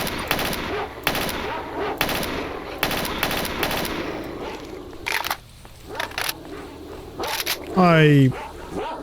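Rapid bursts of automatic gunfire crackle through a firefight with attacking dogs in the video game S.T.A.L.K.E.R. Shadow of Chernobyl, loud and repeated over several seconds, with a short voiced sound rising near the end.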